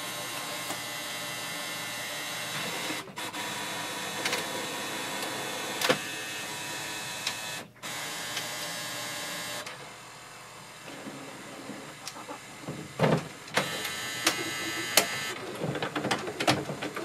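HP OfficeJet Pro 9012 printer scanning a page: a steady mechanical whirring drone broken by brief pauses, a quieter stretch, then clicks and clunks as the scan carriage moves and stops.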